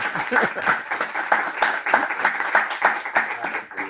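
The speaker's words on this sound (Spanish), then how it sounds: "que de Aragón Fashion Week le demos un aplauso a Gervasio Pérez" Audience applause closing a conference by a fashion figure at Aragón Fashion Week 2025 in Zaragoza, lively rhythmic clapping throughout with some chuckling and voices mixed in.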